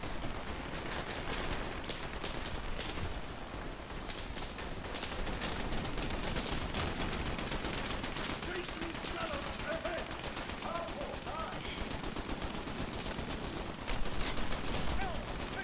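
Naval gunfire from the video game War Thunder goes off in dense, steady rattling bursts that continue throughout, with a louder volley near the end and speech faintly mixed into the din.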